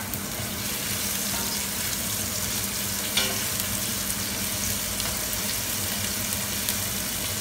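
Garlic and ginger sauté in a pan for a saluyot stir-fry, a constant close hiss of frying oil with a few light scrapes of stirring, no talking over it.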